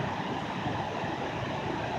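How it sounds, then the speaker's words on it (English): Steady, broad rushing water roars continuously, like river rapids heard up close, with no pauses or voices. "There's some rapids. That's the loud noise you hear."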